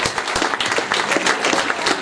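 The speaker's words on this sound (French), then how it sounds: "Si vous voulez vous applaudir" A close, loud burst of applause as trail race participants clap for themselves at an awards ceremony, dense and energetic throughout.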